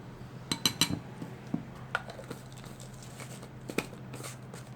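A spoon scoops sugar into dry milk in a bowl, producing a handful of light clinks and taps against the bowl, clustered early and then sparse, close and fairly quiet.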